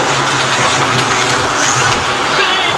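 A Scalextric Porsche slot car laps a track at speed, its small motor producing a steady, continuous high whirring buzz with no pauses across the stretch.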